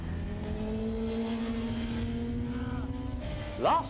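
A motorcycle accelerates through a corner near a cone on a riding track, its engine drone held close and steady before climbing in pitch near the end.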